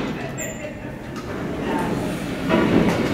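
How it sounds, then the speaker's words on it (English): A new Otis/Murphy elevator at the Galt House Hotel rides upward, a steady low mechanical rumble and hum filling the car and swelling slightly toward the end, with voices faint in the background. "So we'll ride the brand new elevator first."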